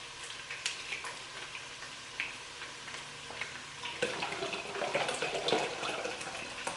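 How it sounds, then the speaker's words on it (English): Four cups of water poured into a soup pot, a steady faint splashing trickle that grows a little fuller toward the end, quiet and with no talking. "You add this and 4 cups of water."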